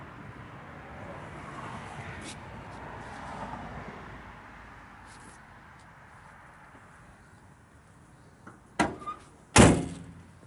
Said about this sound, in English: Doors shut beautiful in this car.